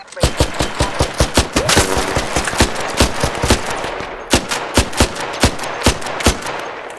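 Rapid bursts of gunfire in the video game Arc Raiders, sharp repeated shots in quick volleys with brief pauses, loud and close throughout.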